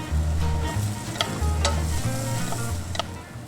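Carrots frying in beef tallow in a pan on a stovetop at medium heat, a steady close sizzle with a low hum and a few sharp utensil clicks, no voices.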